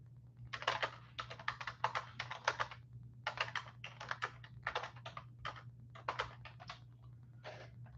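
Rapid bursts of computer keyboard typing, close and crisp, in several quick runs separated by brief pauses, over a steady low electrical hum with no voices.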